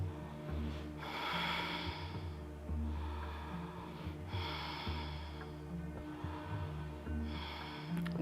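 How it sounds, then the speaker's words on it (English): Slow, relaxed breathing during a Kundalini yoga class, with several long airy breaths and soft snorting nasal exhales, evenly spaced and close to the microphone over a low steady background hum. "Exhale. A couple of relaxed breaths."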